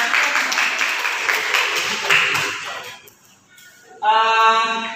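Brief classroom applause from students, a burst of clapping that fades out after a few seconds, followed by a short pause and then a sharp, ringing tonal sound.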